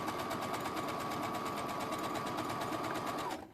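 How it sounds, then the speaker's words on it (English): A sewing machine runs steadily while top stitching a bag, a continuous close whir with a fine rapid needle rhythm that stops abruptly near the end. "I'm just doing the top stitching"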